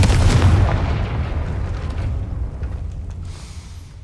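A Confringo fire spell explodes in Hogwarts Legacy, one loud booming blast at the start whose deep rumble slowly fades away over several seconds.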